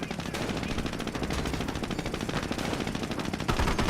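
MG42 machine gun fire in Company of Heroes, a dense, continuous rattle of rapid bursts running the whole time at steady loudness with no voices.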